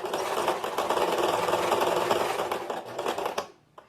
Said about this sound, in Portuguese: a gente vai pra máquina pra fazer a costura dessas partes